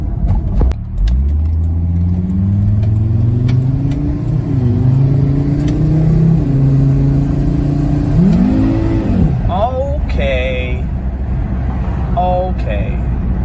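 A Volvo V70R wagon pulls away gently from a stop, its engine note rising in smooth steps through the gears, close and steady, with a few faint chirps near the end.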